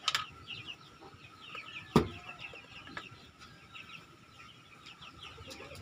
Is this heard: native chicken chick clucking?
yes